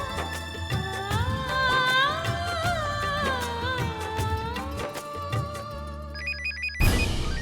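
A phone's ringtone plays a bright, warbling melodic tune that loops steadily for several seconds and ends in a burst of noise. The call comes from the mother, and the sound is clear and close with no talk over it.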